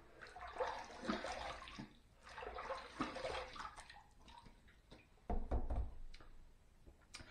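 Water runs and splashes in a bathroom sink as a razor is rinsed after a shave, soft irregular gushes broken by a few sharp knocks and taps against the basin.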